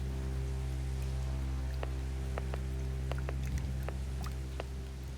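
Steady rain falls in a continuous wash, with scattered distinct drops tapping and pattering close by. No voices are heard.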